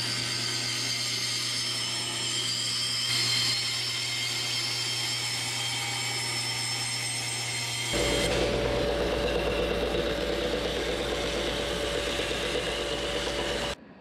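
A power saw cuts stacked plywood pieces with a steady whining drone, then shifts to a louder, lower-pitched cutting tone partway through before stopping abruptly at the end.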